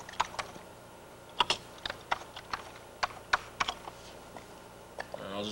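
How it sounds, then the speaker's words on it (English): Keys clacking on a computer keyboard in irregular bursts of sharp clicks, close and moderately loud, over a soft room hiss. "Let's click the cursor and start typing."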